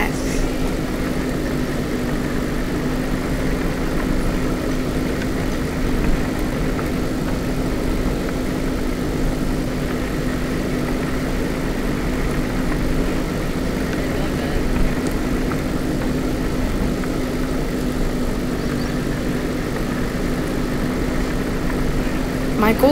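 A steady, droning engine hum runs throughout with a constant low tone, like a vehicle idling or cruising, with no breaks, in the Roblox game Dusty Trip.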